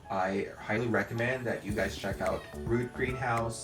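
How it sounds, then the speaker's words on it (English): A pet cat meows repeatedly indoors, several drawn-out, rising and falling meows close by, mixed with a person speaking over them. "If you could hear my cat meowing,"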